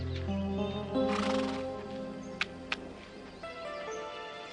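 Horses in a desert setting neigh and whinny repeatedly while hooves clip-clop nearby, with a couple of sharp knocks partway through; the animal sounds stay fairly close and clear, with no talk.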